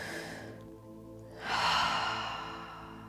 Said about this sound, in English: taking a nice deep breath again